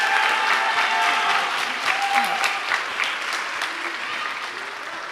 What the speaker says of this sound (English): Let's give all of these solo and ensemble students one more round of applause.